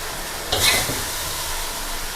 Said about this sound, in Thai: ถ้าฟังดูจะยังได้ยินเสียงเขาเดือดอยู่นะคะ